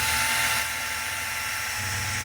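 Power drill boring a hole while a Xiaomi 1200G Pro water purifier is installed, a steady high whine running continuously, pitch dipping slightly partway, then cutting off abruptly at the end.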